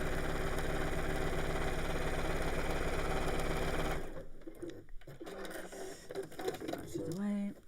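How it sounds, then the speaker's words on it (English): A domestic sewing machine runs steadily for about four seconds with a close whirring drone, then stops; someone talks over it and afterward amid light rustling. "Go again, just sew down each side."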